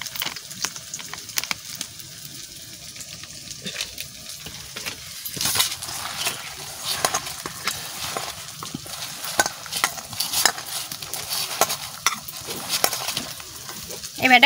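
A spoon stirs a frying mixture of potato peel with chopped green chillies, turmeric and rice flour in a pan, steady scraping and sizzling with occasional clinks against the metal, no talking.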